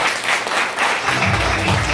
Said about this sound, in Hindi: प्रदीप जैन के लिए दबा के तालियां चाहता हूं